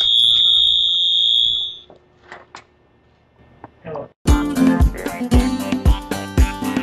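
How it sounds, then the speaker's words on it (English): A telephone in a garage gives a loud, shrill electronic ring for a couple of seconds, then stops; after a short quiet, busy music and voices follow. "And there goes that telephone."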